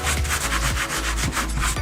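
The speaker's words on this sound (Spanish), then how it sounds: "Y ahora le vamos a poner una buena lijada y después hago lo mismo con la otra" A car hood is sanded by hand with sandpaper, a steady run of close, rasping back-and-forth strokes that repeat for a couple of seconds with no talking.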